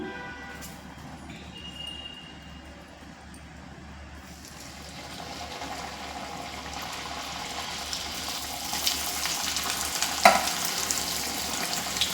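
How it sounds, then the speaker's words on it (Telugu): Vegetable puffs frying in hot oil on medium flame, a soft bubbling hiss that grows fuller and louder over time, with a sharper clink near the end and no voices. "చాలా బాగా ఫ్రై అవుతున్నాయండి ఆయిల్ బాగా హీట్ ఎక్కిపోయింది కదా"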